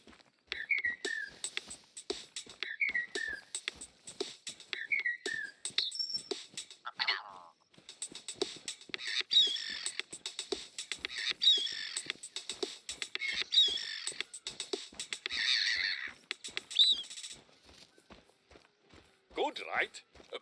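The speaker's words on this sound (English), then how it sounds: "We recorded the call of some birds and made this." A short, playful piece built from recorded bird calls runs for the whole stretch, with chirping phrases repeating in a steady rhythm over a busy, patting pulse.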